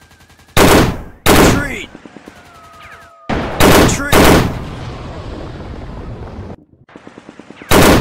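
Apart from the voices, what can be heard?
heavy gunfire in War Games Modern Commando video game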